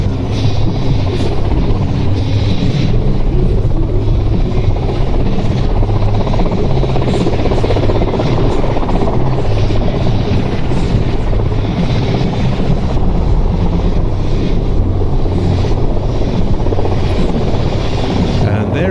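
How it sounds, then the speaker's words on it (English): Loud, steady rotor thump and turbine whine from a Mi-171 transport helicopter at an air show, continuous throughout, with an announcer's voice faintly underneath. "Mi-171 NATO codename HIP, of course, for the Mi-8, Mi-17 and 171 family."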